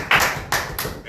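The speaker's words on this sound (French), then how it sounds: "Nous applaudissons pour le Seigneur." A congregation at a French-language church sermon claps, heard as three loud, separated bursts of clapping close by.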